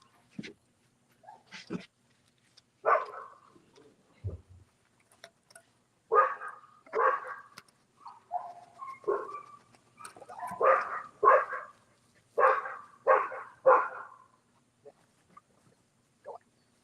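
Two puppies yipping and barking in short bursts, some in quick clusters, with a few whimpers between them, fairly close and at moderate volume, with quiet gaps between the barks.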